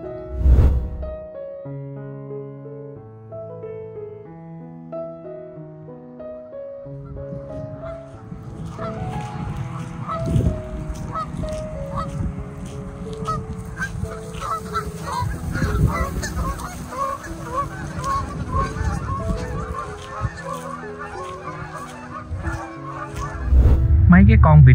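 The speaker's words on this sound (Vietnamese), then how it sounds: "Mấy cái con vịt trời quá trời trên sông bày bày luôn á" A large flock of wild ducks on a river in the American Northwest breaks into busy, loud honking and quacking that follows a short stretch of plucked melodic notes and goes on to the end.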